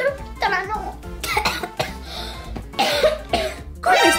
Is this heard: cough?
yes